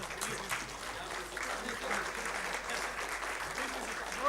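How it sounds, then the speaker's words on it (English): Audience round of applause at a digital summit on AI, steady clapping from a crowd at moderate distance, fairly faint, with some speech mixed in. "I think we all should give him a big round of applause and perhaps a standing ovation"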